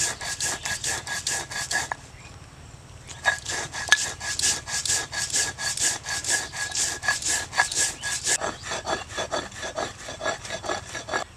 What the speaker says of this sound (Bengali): এবার আমি মশলাগুলো বেটে নেব। এখানে আমি 2 চামচ পোস্ত নিয়েছি।